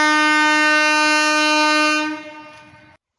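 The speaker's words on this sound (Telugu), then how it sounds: "ఇంకా లాస్ట్కి ట్రైన్ అయితే వచ్చింది." A train at a railway level crossing sounds one long, loud, steady horn blast that fades and cuts off near the end, close by with no voices.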